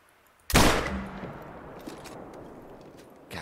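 A new hunting rifle in theHunter fires a single loud, sharp shot, followed by a long rolling echo that fades slowly across open terrain, with no talk over it.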